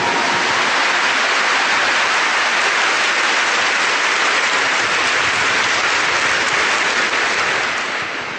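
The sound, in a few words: audience applause for the Pope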